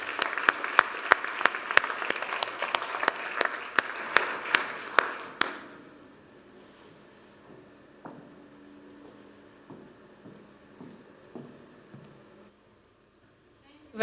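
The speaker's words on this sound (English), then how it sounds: "A warm round of applause, please, for Ursula von der Leyen, President of the European Commission." Audience at an ocean conference applauds Ursula von der Leyen, President of the European Commission, with a burst of sharp, fairly close clapping for about five seconds that then stops abruptly, leaving a quiet hall with faint shuffling and taps.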